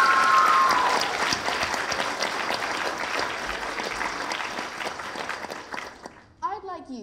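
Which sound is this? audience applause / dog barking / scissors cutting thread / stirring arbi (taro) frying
audience applause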